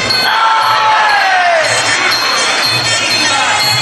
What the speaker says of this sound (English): Pretty even support crowd for both of them tonight as well. You can hear it.